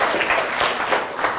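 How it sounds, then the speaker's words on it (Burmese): A classroom of children claps together in a dense, steady burst of applause, close and fairly loud, with no talking over it. "သမီးလေးကျေစင်လက်လက်ကိုလက်ခုပ်တီးပြီးအားပေးရအောင"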